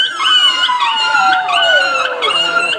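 A man in a comedy stage play imitates a dog, letting out a loud, drawn-out howl that slides downward in pitch with a few whimpering breaks, close and alone.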